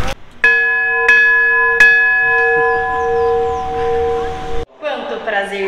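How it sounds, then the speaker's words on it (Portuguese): A large bell at the Marco da Paz peace monument is struck three times in a steady rhythm, loud and close, each strike leaving a long ringing tone that fades before a voice begins speaking. "nós vamos tocar o sino, porque aqui tem o Marco da Paz, né, onde simboliza a paz"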